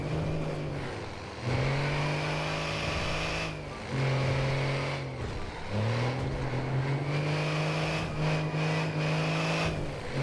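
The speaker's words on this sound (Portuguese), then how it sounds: "vocês escutar o ronco do caminhão" A loaded truck's engine roars in GTA 5, holding a steady droning tone that climbs and then drops at each gear change, repeating several times, loud and close with no talking.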